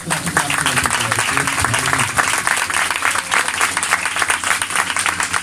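Loud, sustained applause from a large church congregation, dense and even throughout, with a preacher speaking over it.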